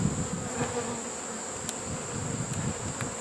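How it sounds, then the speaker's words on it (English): A swarm of bees at a swarm trap fills the air with a dense, steady buzzing, close and continuous, with no talking. "this looks like a lot of bees"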